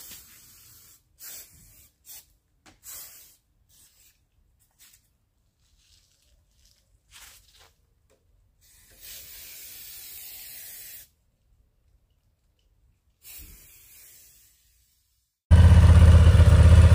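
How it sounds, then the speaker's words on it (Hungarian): Lubricant is sprayed onto the chain of a 2025 Honda CB750 Hornet motorcycle in a series of short hissing bursts separated by quiet pauses, with one longer spray in the middle, before a loud, steady noise takes over at the end. "befújtam a láncot körbe-körbe"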